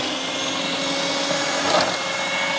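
A Miyako food processor slicing bitter gourd whirs with a steady, loud motor drone and a faint chopping rasp, close and uninterrupted with no talk.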